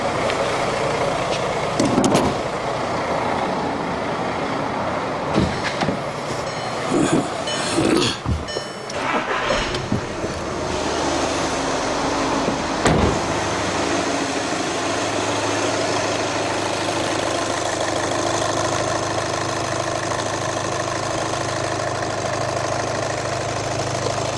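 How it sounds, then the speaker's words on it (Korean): A Volkswagen Passat with a charging fault cranks with a few uneven bursts and catches, settling into a steady, close engine idle that hums on alone for the rest of the stretch. "이제 시동을 한번 걸어보도록 하겠습니다"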